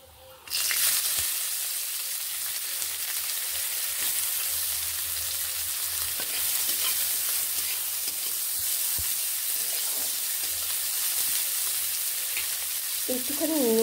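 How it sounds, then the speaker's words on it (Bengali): Sliced onions fry with dry red chillies and panch phoron in hot oil, a loud, continuous sizzle that starts abruptly and holds steady, with a brief clatter near the end and no talking. "পেঁয়াজগুলোকে আমার এইভাবে আমি ভেজে নিচ্ছি"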